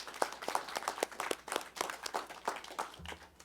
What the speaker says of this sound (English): So a round of applause for all of those people.